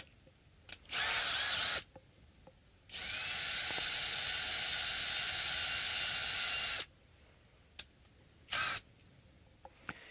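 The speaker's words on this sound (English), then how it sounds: "And now I'm going to use the countersink again." Electric drill driving a countersink bit, running in a short whir, then a steady sustained burst of about four seconds, and finally a brief spin, with quiet pauses between.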